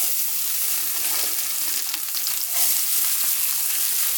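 Onions hitting a hot pot of oil used for frying fish for Jamaican-style salmon give a loud, steady sizzle with occasional stirring scrapes, close and continuous without talk.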